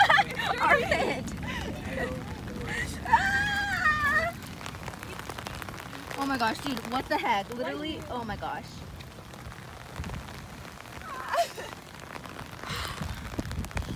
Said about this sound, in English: There was hail.